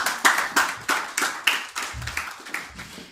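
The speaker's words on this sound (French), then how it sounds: "On peut applaudir pour eux" A church congregation claps steadily in a fast, even rhythm for a little over three seconds, the claps close and bright with a faint low murmur underneath.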